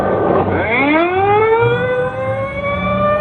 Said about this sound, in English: The ambulance is pulling away.